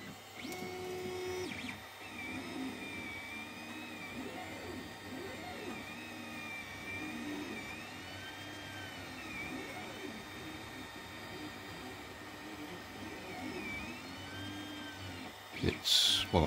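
A 3D printer slowly printing white TPU tyres gives off a quiet, continuous whir of stepper motors with gliding, wavering tones, ending in a brief louder rattle.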